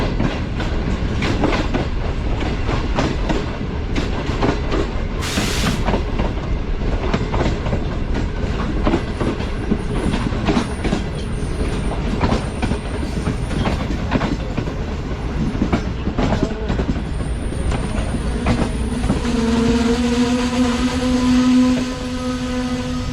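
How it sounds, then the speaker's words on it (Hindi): A Green Line passenger train pulls into Chaklala railway station at night, a loud steady rumble with clattering wheels on the rails, then a drawn-out tonal squeal of brakes as it slows near the end. "चकलाला रेलवे स्टेशन में ट्रेन अप्रोच कर रही है हमारी"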